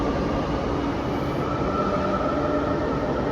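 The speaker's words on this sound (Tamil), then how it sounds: "ஸோ ட்ரெயின் கிளம்புது, சவுண்டு கேட்கும்னு நினைக்கிறேன் உங்களுக்கு கரெக்டாக" Chennai Metro train departing a station in the early morning, a steady, loud rumbling roar of the moving train with a faint high whine, continuous throughout and with no talking.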